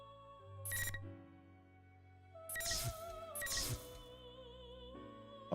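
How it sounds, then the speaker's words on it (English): A phone call ringtone in Persona 4 Arena Ultimax plays in two chiming bursts, bright and clear, with a steady musical tone underneath and no talking. "Oh, sudden phone call."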